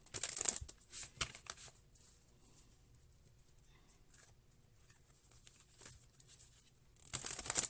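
Tarot cards are shuffled in short, soft riffling bursts at the start and again at the end, with a quiet stretch of faint rustling between.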